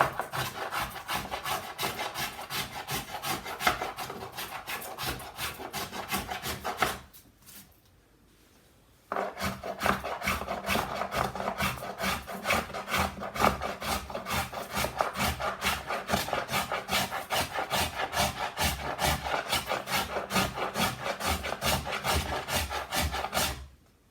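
A blade carves the edge of a baroque cello's wood in rapid, regular rasping strokes, close and continuous, with a brief pause partway through before the scraping rhythm resumes.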